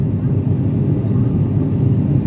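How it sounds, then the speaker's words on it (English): Steady broadband roar of an airplane cabin during flight, a loud continuous engine and air rush with no breaks. "we are traveling in an aeroplane"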